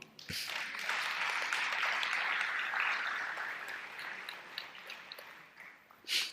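A church congregation applauds the Lord during a Spanish-language sermon, a dense wash of clapping that swells, holds, then slowly thins out, with a final brief burst at the end.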